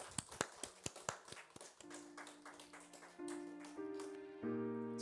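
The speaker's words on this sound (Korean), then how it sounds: "하나님께 감사의 박수 드리겠습니다." A few people in a church congregation at an Easter service clap in quiet, scattered handclaps for about two seconds. Soft sustained keyboard tones then take over.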